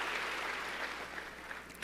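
A church congregation claps in praise, a soft, distant wash of steady applause with no clear individual claps.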